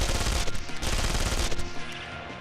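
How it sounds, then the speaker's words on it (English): Gunfire from shooting enemies in the 2003 PC video game Contract J.A.C.K., a dense burst of rapid shots close and loud, tailing off toward the end with no voices. "After we shoot these mobs."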